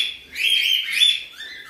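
Cockatiels, chicks and adult breeders crowded in a cage, giving high, raspy chirps and calls in two close, loud bursts that trail off into a softer peep, with no voices.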